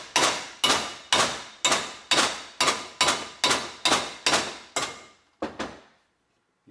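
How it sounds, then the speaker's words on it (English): Wheel bearing races are hammered into the front hub of a 100 Series Land Cruiser: about a dozen sharp metallic blows in a fairly even rhythm, each ringing briefly, then a pause and two final strikes. "So the races are pounded in"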